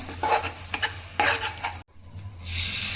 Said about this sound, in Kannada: ಇದನ್ನೆಲ್ಲ ಚೆನ್ನಾಗಿ ಮಿಕ್ಸ್ ಮಾಡ್ಕೊತಾ ಇದ್ದೀನಿ